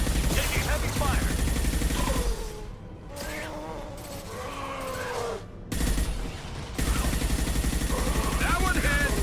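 Heavy gunfire rattles in dense bursts during a sci-fi space video game, a sustained barrage that drops off briefly in the middle while other tones and sounds play, then resumes just as intensely.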